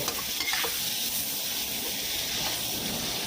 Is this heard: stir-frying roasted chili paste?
yes